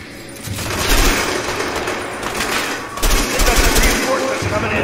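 Loud, sustained automatic gunfire from the video game A Way Out, with rapid bursts rolling into one another across the whole stretch and a heavy thump as a new burst starts partway through.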